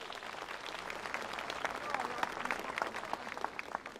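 An audience at a Thanksgiving family concert in Toruń applauds the honored guests, a fairly faint but continuous patter of clapping that swells slightly midway, with speech mixed in.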